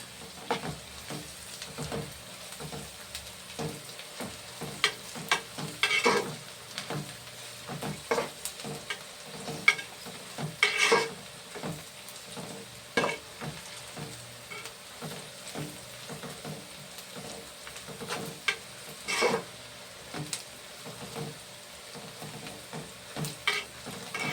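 Vegetable pieces fry in a pan with a steady sizzle while a spoon scrapes and stirs them in irregular bursts, close and moderately loud, with no talking.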